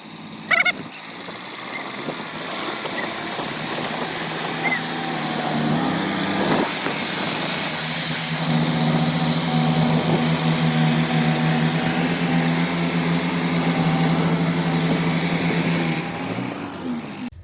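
A four-wheel paddy harvester works through a muddy rice field, its engine a steady, close mechanical drone with a low hum throughout, briefly louder toward the middle.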